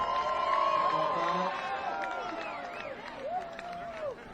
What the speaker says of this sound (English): Grizzly fans haven't had too much to cheer about in this second half, so they're raving when we get an occasional penalty against the Tigers